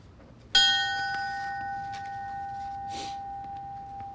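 A single memorial bell strikes once at a fallen firefighter ceremony in Edmonton, Alberta, its clear metallic tone ringing out and sustaining as it slowly fades, with a faint soft noise later in the decay.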